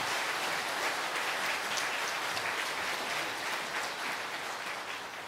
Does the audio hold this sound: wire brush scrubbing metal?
no